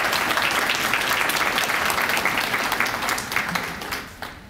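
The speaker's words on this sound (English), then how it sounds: "Let's give him a round of applause." A crowd at a National Adoption Day celebration gives a round of applause, dense and loud clapping that runs strongly and then tapers off toward the end.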